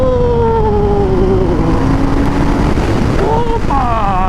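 A 2023 Harley-Davidson Sportster S motorcycle cruising in fourth gear at about 50 mph on a straight road, its engine a loud, steady drone under heavy wind rush, with the pitch shifting near the end as the revs change.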